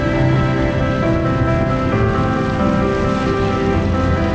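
Steady rain falls on wet trees under a grey sky near the sea at Sabang, a dense continuous patter with a low rumble beneath, fairly loud and even throughout.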